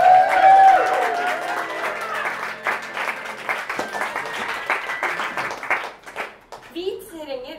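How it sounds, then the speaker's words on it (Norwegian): An audience at an improv theatre show bursts into applause, dense clapping that starts loud and gradually thins and fades, ending with a voice speaking. "Let's give a big round of applause."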